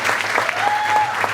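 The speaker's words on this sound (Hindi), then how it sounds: "मैं तालियां और चाहूंगा" Audience applause at a live Swang folk theatre performance, a dense steady clatter of many hands clapping throughout, fairly loud and close, with no break.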